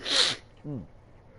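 A single sharp sneeze, followed by a short nasal sniff or snort.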